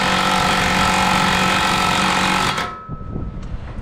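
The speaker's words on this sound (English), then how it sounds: "all you do is you grab your impact, and then you just go" A hand-held impact wrench hammers a stud into a Toyota JZX100 steering knuckle, producing a loud, steady rattling burst up close for about two and a half seconds before it cuts off, leaving light clanks and shop noise behind it.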